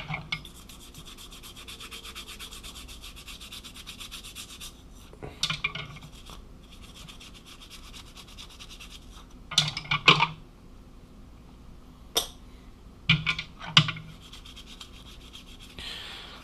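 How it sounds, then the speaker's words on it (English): Knife handle scales being washed off after dyeing, heard as soft rubbing and scrubbing with a few sharper clatters and knocks near the middle and end, close and fairly quiet throughout. "So now we got our 4 scales all washed off."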